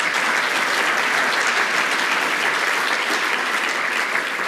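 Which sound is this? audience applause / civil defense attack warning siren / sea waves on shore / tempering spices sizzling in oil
audience applause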